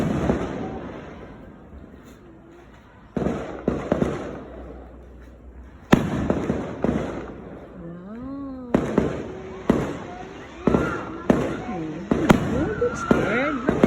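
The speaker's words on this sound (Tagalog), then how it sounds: "Fireworks lang yan" Sharp fireworks bangs burst out repeatedly, some near and loud, with crackling tails, while people talk and a voice rises between blasts.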